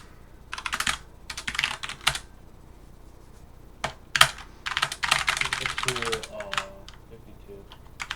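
Fast typing on a computer keyboard comes in dense bursts of crisp, close key clicks separated by brief pauses, with a voice briefly heard near the end.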